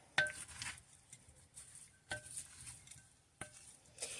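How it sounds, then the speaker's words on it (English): German potato salad with bacon being stirred in a bowl or pan: quiet scraping clinks of a utensil come in a few separated bursts, with soft rustling between them and no talking. "We're just going to give this a quick stir."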